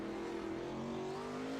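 A wingless 360 sprint car holds a steady, loud high-pitched engine drone at speed on a dirt oval during a heat race, alone without commentary over it.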